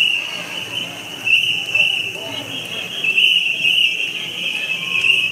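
Whistles blow at a Tokyo summer shrine festival, a continuous shrill high tone with brief louder bursts, amid crowd noise and voices.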